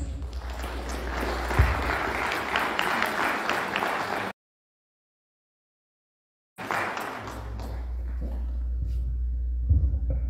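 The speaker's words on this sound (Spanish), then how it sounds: "Lo vamos a recibir con fuerte voto de aplausos." An audience at a civil engineering seminar claps steadily for several seconds, cuts to a brief silence, then the applause resumes and carries on.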